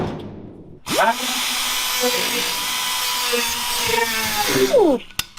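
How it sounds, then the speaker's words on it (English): Angle grinder grinding welds off rusted, rotted bolts on a Blazer, a loud steady whine that spins up, holds for about four seconds, then winds down, close by. "we're trying to grind the welds so we can beat them out"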